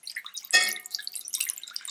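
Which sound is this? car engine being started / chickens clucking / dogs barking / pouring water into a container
pouring water into a container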